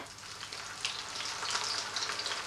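Beer-battered fish deep fries in hot oil, a steady, fairly quiet bubbling sizzle with small popping crackles, close and continuous without speech.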